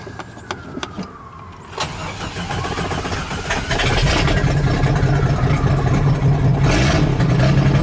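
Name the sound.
engine running with bad fuel pump, muffler likely fallen off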